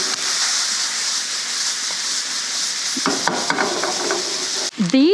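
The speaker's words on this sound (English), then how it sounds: "Mix my potatoes in." Potatoes stirred into chorizo in a one-pot frying pan at a camp meal, a steady bright sizzle with soft scraping stirs, ending in a brief burst of louder clatter and tonal noise.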